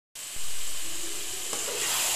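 Grated carrots for gajar ka halwa sizzle as they roast in a pan. A close, steady frying hiss starts abruptly, with a faint scrape of stirring partway through.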